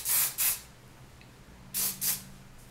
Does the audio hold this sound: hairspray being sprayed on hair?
yes